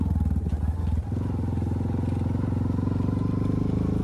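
Honda 420 ATV engine running steadily during a slow ride, a loud, close, continuous low rumble with a rapid pulsing beat that shifts slightly about a second in.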